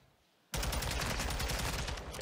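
MP7 submachine gun fire in a Call of Duty match, bursting in abruptly after half a second of near silence into dense, continuous rapid shots that stay loud and close to the end.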